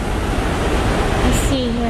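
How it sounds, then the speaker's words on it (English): A big waterfall gushes heavily, its steady broadband roar filling the whole clip at close range, with faint voices and brief tonal sounds near the end. "That is a big waterfall. It's just gushing water."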